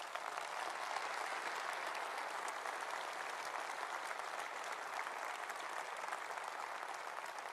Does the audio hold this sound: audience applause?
yes